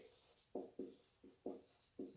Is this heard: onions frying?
no